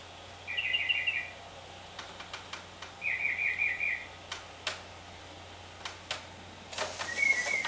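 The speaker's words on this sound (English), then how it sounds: "That's a birdie." Short, bright bird chirps arrive in three separate bursts, each lasting about half a second to a second, over a quiet outdoor background with occasional faint knocks.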